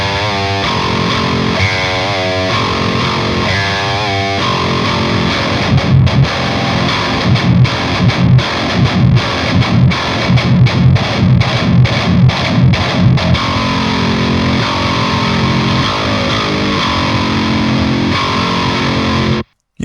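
A guitar's low string chugs through a heavy distorted tone from a Lundgren M8 bridge pickup, a sustained riff breaking into tight rhythmic palm-muted stabs before ringing out and stopping abruptly, loud and close.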